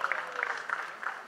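Faint, brief applause at a film critics award ceremony crackles evenly from a distant crowd.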